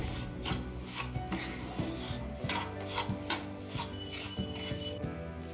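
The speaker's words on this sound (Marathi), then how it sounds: "अजून मधून सतत हलवायचं म्हणजे आपलं साबुदाण्याचा पावडर जळणार नाही व्यवस्थित भाजलं जाईल" Sabudana (tapioca) powder roasting in ghee in a pan is stirred continuously, giving steady rhythmic scraping and rubbing strokes against the pan, close and moderately quiet, with no talking.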